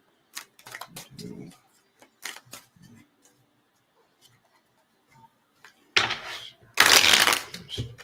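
Tarot cards are shuffled and handled in bursts of crisp riffling and tapping, with a loud, dense riffle near the end amid quiet gaps.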